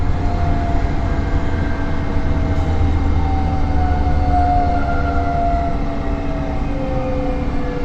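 A Karlsruhe TramTrain braking hard from 60 mph, a loud steady rumble of wheels on rail with tonal brake whines gliding downward in pitch, continuous and close.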